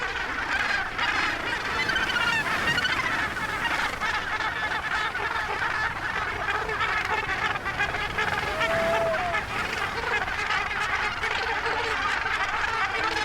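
A dense colony of Cape gannets, tightly packed birds at their breeding site, fills the air with continuous overlapping harsh honking calls, a busy layered chorus at moderate distance without speech.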